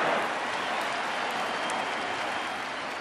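Baseball stadium crowd at an ALCS game between the Texas Rangers and Houston Astros, a loud sustained roar of cheering and applause filling the park evenly throughout, with no break or lull.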